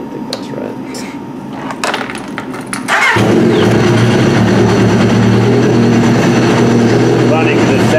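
A Yamaha RX-1 Mountain snowmobile in trashed condition cranks briefly, then its engine catches and settles into a loud, steady idle hum with a buzzing, motorcycle-like tone that runs to the end.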